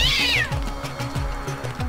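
In the video game Deus Ex, a cat lets out a loud, close, drawn-out yowling meow over a repeating low, rhythmic background pulse.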